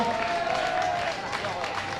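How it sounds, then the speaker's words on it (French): Spectators clap for young triathletes finishing a French youth triathlon championship, a moderate, distant-sounding patter of applause over crowd noise and a voice. "on les applaudit bien fort"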